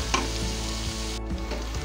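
Spice paste is sautéed on low heat in a pan for a cauliflower rezala, a close, even sizzle with a few soft stirring scrapes and no talking.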